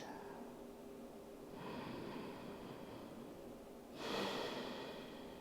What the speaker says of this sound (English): Breathe those out